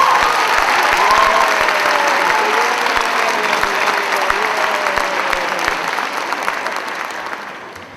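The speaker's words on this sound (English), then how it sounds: "and girls a huge round of applause?" A large audience at a school winter concert fills the room with sustained, loud applause and some cheering, steady throughout before tapering slightly at the end.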